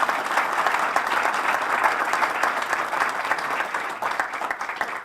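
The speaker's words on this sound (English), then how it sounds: "Let's give that a round of applause" Applause from a crowd at a park groundbreaking ceremony, a dense, steady wash of clapping that holds for several seconds and then tapers off at the end.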